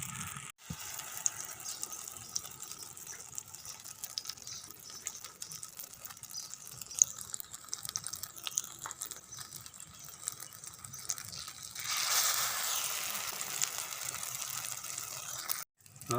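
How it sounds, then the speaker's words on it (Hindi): Egg-dipped potato tikki frying on a tawa for aloo kabab, giving a quiet, steady sizzle with faint crackles and spits that swells into a louder hiss later on, with no talking. "अब ये टिक्की अंडे में से डिबो कर तवे पे रखेंगे"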